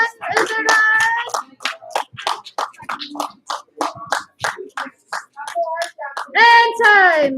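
Children clap rapidly and repeatedly to cheer on their team in an indoor class, sharp hand claps in quick bursts, with excited shouting and cheering voices mixed in.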